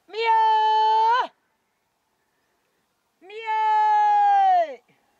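A cat meows twice on an Ariège mountain pasture near a shepherdess's flock: two long, steady, close calls about a second each, separated by a few seconds of silence.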